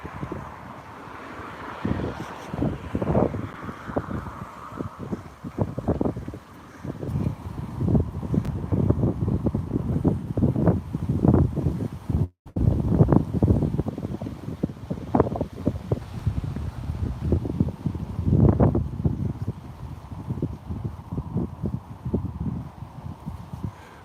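Gusty wind buffets a microphone during an outdoor walk, a steady low rumble with repeated louder blasts that surge and fade throughout, with a brief dropout midway.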